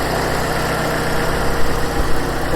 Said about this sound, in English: So we have one engine running.